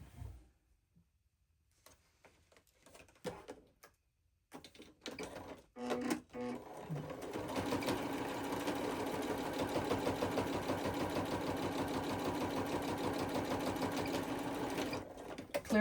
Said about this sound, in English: I am going to take it to my sewing machine and I'm going to sew just along the top of here